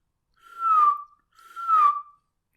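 A narrator's voice imitates blackbirds with two clear whistled notes, each sliding downward, loud and close with a short pause between them.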